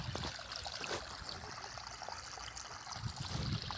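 Irrigation water running into a millet field, a faint, continuous trickling and gurgling flow with small splashes, steady throughout and heard alone.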